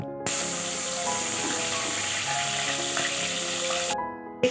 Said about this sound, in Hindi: देखो मेरा कटहल अच्छे से फ्राई हो गया है।